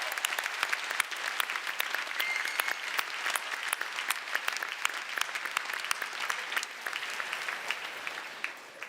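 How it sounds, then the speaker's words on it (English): Hall audience applauds for the Toronto Police Services at an evening debate event, a crisp, steady clapping that stays moderately loud and continuous, thinning slightly toward the end. "A big round of applause for the Toronto Police Services this evening."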